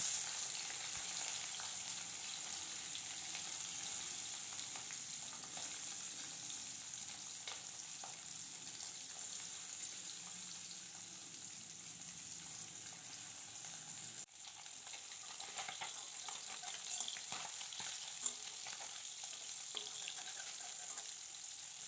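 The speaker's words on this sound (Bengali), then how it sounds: "তেলটাকে খুব ভালো করে গরম করে নেব যাতে মাছটা লেগে না যায় মাছে নুন হলুদ মাখিয়ে নিয়েছি অলরেডি এবার মাছটাকে ভাজা করে নেব" Fish coated in salt and turmeric frying in hot oil, a continuous soft sizzle with light crackles and an occasional stir, close but fairly quiet with no talking.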